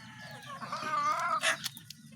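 Chickens cluck and a rooster crows in a close, harmonic call around the middle of the clip, with low farmyard rumble beneath, on a hot day just before the birds are bathed.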